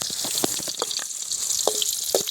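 Fenugreek and garlic sautéing in a pan for country crab gravy, a steady bright sizzle with scattered pops and crackles, close and even in level throughout.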